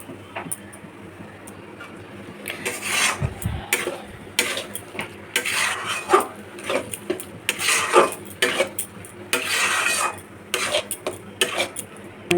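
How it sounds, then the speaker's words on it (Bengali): Ingredients seasoned with salt and turmeric are stirred in hot oil in a kadai. A spatula scrapes and clatters against the pan in irregular bursts over a faint sizzle. "তেলটা গরম হয়ে গেছে, দিয়ে এটাকে একটু কষিয়ে নিতে হবে।"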